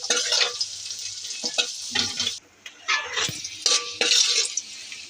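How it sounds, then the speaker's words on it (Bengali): Onion and garlic fry in a pan of hot oil with a steady sizzle, broken by bursts of stirring and scraping, close and fairly loud, with no talk. "এখন পেঁয়াজ রসুন ছেড়ে দেব। এখন ভাজবো ভালো করে।"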